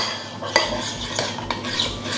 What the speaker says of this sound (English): Give that a proper mix until everything comes together into a smooth glossy sauce